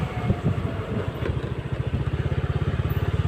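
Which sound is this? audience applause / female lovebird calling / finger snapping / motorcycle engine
motorcycle engine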